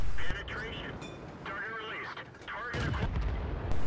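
Tank cannon fire in the World of Tanks game on the Mountain Pass map, a tank stopping to shoot at enemy artillery: loud booming shots and impacts over game effects, with brief radio-style chatter.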